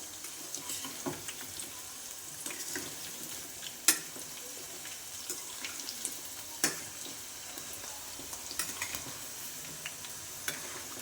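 Cauliflower pakoras (gobi bhajji) frying in hot oil give a steady, close sizzle, with occasional sharp clicks and taps as they are flipped.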